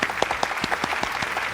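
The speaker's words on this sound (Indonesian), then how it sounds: "Tepuk tangan lagi." An audience claps in a quick, lively burst of applause at a children's class graduation event, close and fairly loud with distinct individual claps.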